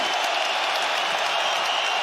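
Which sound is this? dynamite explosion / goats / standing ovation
standing ovation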